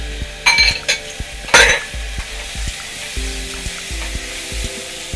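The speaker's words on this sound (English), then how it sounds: "I'm going to add carrots and the potatoes and tomatoes." Carrots, potatoes and tomatoes hit a sizzling pot of chicken curry, giving a loud burst of frying crackle with a few clanks of utensil against the pot, then a steady close sizzle.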